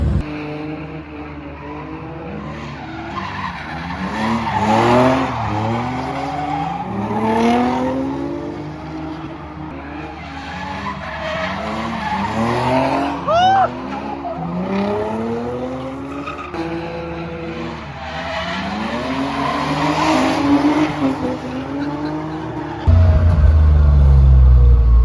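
A drift car lapping a paddock track revs hard and repeatedly, its engine swooping up and down in rapid bursts with tyre squeal, continuous and fairly loud, ending in a low rumbling thud.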